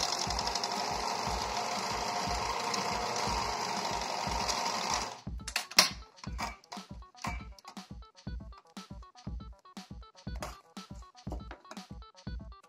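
Sewing machine stitching a cloth face mask with elastic: a steady continuous run of close, loud stitching for about five seconds, then slower separate thumping stitches at a regular pace to the end.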